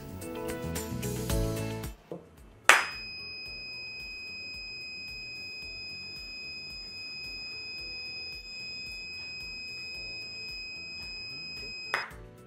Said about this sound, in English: Now you can just clap